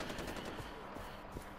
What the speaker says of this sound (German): Die feiern mich mit den Schüssen in den Himmel.